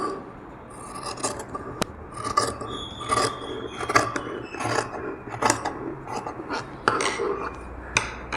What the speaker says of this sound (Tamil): இப்போ இதுலேயே ஒரு வளைவு கொடுத்து நான் கட் பண்ணுறேன் பாருங்கள்